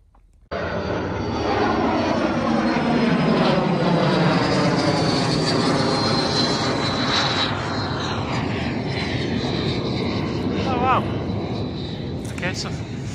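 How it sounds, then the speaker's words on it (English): A fighter jet roars continuously and loudly as it takes off, its engine pitch sweeping as it passes, a sustained powerful rumble filling the scene. "So fighter planes take off from there as well."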